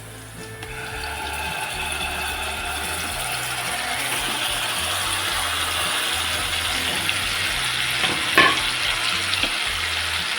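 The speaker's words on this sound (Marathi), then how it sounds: "आता आपण यामध्ये मॅरिनेट केलेला पाकत टाकतो" Marinated fish drops into a pan of golden fried garlic and spices, setting off a loud, steady, close sizzle with intermittent stirring scrapes and a brief clink partway through.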